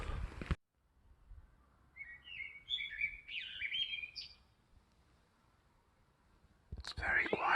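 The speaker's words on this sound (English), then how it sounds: "It's very quiet, apart from the birds." Birds in the early morning give bright chirps and short twittering phrases, faint and at a moderate distance in a very quiet outdoor street, with a person speaking softly just before and after.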